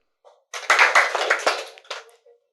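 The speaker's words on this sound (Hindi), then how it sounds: "ताली बजाओ" An audience claps in unison at a Hindi spiritual gathering: a dense burst of hand claps lasting nearly two seconds, with a faint tap just before it and a few stray claps trailing off at the end.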